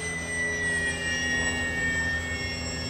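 X-Fly Twin Otter 1800mm twin-engine RC model plane in flight, its electric motors giving a steady high whine with a sustained tonal hum, loud and continuous throughout.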